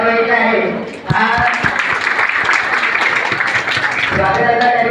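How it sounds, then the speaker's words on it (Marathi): Audience applause at a school alumni event, a loud burst of many people clapping that swells in after a spoken announcement and fades back to talk near the end. "सर्वांनी पुढे सर्वांसाठी टाळ्या वाजवायच्या आहे"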